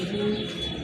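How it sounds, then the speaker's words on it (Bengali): Cooing of a fresh, fully active female pigeon of the Andalusian colour, kept in a pair, with low soft coos close by over a steady hum of other birds. "আর এটা হচ্ছে মাদি কবুতর সম্পূর্ণ অ্যাক্টিভ কবুতর ফ্রেশ কবুতর"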